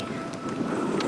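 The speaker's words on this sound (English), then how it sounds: "Sorry, it's just a windy day today." Wind buffets a microphone outdoors on a windy day, a brief steady low rumble with soft gusty swells.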